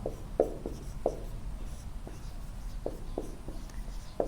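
Pen strokes on paper while a maths solution for a Class 10 surface-area problem is written out, quiet scratchy taps and short scribbles at an irregular pace, close and faint.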